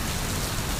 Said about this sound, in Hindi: तेज बारिश में उड़ने की कोशिश करने लगे